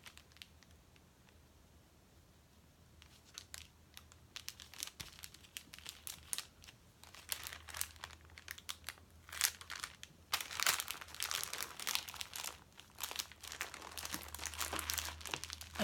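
Clear tape handled on a handmade notecard, soft crinkling and tearing rustles that grow busier and louder partway through, close and alone.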